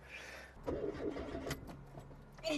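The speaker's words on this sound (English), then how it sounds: "turn on the ignition, wait for a few seconds and then pump the accelerator and then start the engine" A Mazda 323 engine cranks and struggles to start, giving uneven bursts of turning over and catching, with rough surges of engine noise separated by brief pauses, heard close up.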